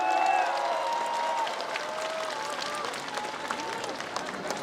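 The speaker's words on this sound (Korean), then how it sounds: "큰 박수 부탁드리겠습니다." A large crowd at an election campaign rally in a convention center in Gwangju, South Korea, claps and cheers in a steady, roomy wash of applause, with raised voices and shouts woven through it.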